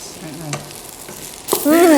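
Fried rice with beef sizzles steadily in a hot pan while being stirred, a continuous close crackle with a louder burst of frying toward the end.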